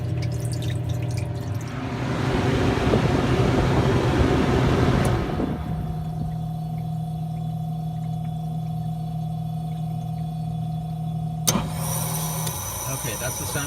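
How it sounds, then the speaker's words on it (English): An ice machine's steady hum and drone shifts abruptly partway through as its compressor reverses. A brief click marks the change, and a low continuous tone settles in before another switch near the end. "Okay, that's the sound of the compressor reversing."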